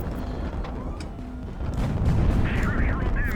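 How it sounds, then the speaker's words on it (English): In the naval combat game Highfleet, a ship takes a hit and its internal fuel tank explodes, booming heavily and rolling into a louder rumbling blast with a scatter of game effects afterward. "We got an internal fuel tank explosion there."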